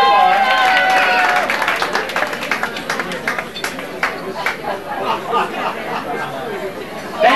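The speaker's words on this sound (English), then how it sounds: "Let's give Mana my nice applause." An audience claps and chatters, a dense patter of applause mixed with crowd murmur that gradually thins out.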